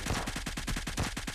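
An AK rifle fires in a mobile battle royale game as a fast, steady string of automatic shots at about ten rounds per second, close and even in loudness.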